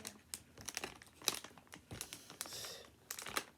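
A Japanese sour candy packet wrapper crinkles and crackles in quick, irregular bursts close up as someone struggles to tear it open, with a longer rustle midway and no talking.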